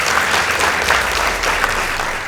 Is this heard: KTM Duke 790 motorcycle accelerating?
no